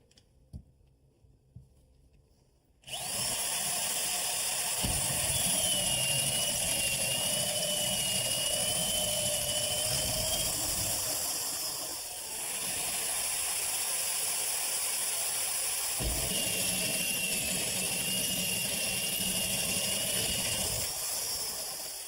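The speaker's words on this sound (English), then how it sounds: "Time to drill." After a quiet start, a power drill whines loudly and steadily for a long stretch drilling holes in a kitchen countertop, its pitch dipping briefly midway before resuming.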